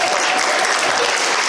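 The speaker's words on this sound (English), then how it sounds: "Give them another round of applause." Open mic comedy crowd breaking into sustained, dense applause, loud and steady throughout with no pauses.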